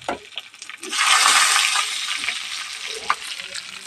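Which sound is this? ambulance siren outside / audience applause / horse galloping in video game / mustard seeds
mustard seeds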